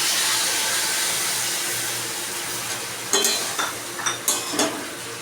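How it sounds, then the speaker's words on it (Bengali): A paste of white mustard, poppy seed and char magaj is added to shukto cooking in a pan. A steady loud sizzle fades slightly, then several close scraping and stirring knocks come in quick succession; no one speaks. "এই পেস্টটা এবার এই শুক্তোর মধ্যে দিয়ে দেব"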